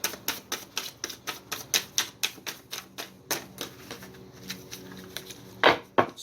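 Tarot cards shuffled by hand in a rapid run of sharp, crisp taps and flutters, regularly spaced at first then looser, with one louder riffle near the end, close and alone.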